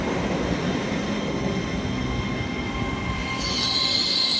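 A train runs through Milton Keynes Central station on the West Coast Main Line. It gives a steady, loud rumble of wheels on rail with a high wheel squeal rising near the end, and no one speaks.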